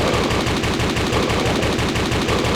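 Constant automatic gunfire from the 2003 game Zombie Infection Simulator, loud evenly spaced shots hammering in a steady rhythm with no pause.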